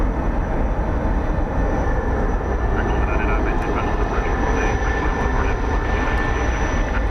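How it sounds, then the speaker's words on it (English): An Alaska Airlines Boeing 737-800 arriving at Dallas Fort Worth airport at night, a steady broadband jet roar holding close and loud throughout, with a faint tonal whine above. "There is Alaska Airlines Flight 576 coming in from Seattle, 737-800."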